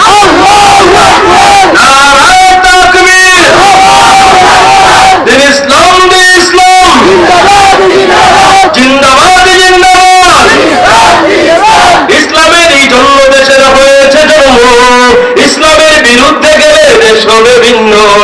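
A large crowd chants the Nara-e-Takbir slogan in unison, loud, rhythmic massed voices repeating in regular bursts with brief gaps between calls, sustained near and forceful throughout.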